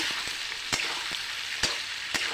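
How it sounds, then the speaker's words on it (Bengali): Hog plums stir-fried in a five-spice tempering give a constant nearby sizzle, punctuated by a few sharp ladle taps against the pan, with no voices. "তো এখন আমি দিয়ে দেবো আমড়াগুলি ঢেলে। কিছুক্ষণ নেড়ে চেড়ে"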